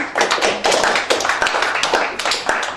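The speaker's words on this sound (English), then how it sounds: "give a round of applause for Congressman Steve Daines" Applause from a public-meeting crowd greeting Congressman Steve Daines, steady dense clapping with sharp individual claps standing out, loud and close throughout with no talk over it.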